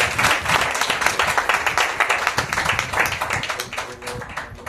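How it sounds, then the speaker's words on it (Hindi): A church congregation claps loudly and rhythmically in unison, close and energetic, the beat fading slightly toward the end. "जोरदार हम ताली बजाएं।"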